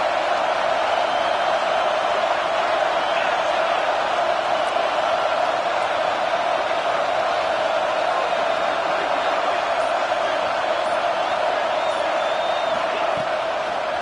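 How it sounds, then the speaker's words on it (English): A packed college football stadium crowd roars for the UCLA defense on third down, a dense, steady wall of noise that holds loud and even throughout with no voices standing out. "Decibels rising as the crowd gets behind this defense on 3rd down."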